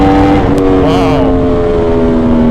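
Aprilia Tuono V4 motorcycle engine held at high revs near the limiter, a loud steady harmonic drone with a brief pitch wobble partway through.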